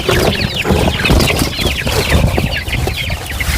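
Young chicks about two and a half months old, Aseel breed, packed in delivery boxes, clucking and peeping in a dense, continuous chorus close by, with overlapping chirps and no talk.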